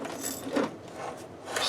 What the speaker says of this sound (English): Alright, I'm going to hold that and get that nut off of that.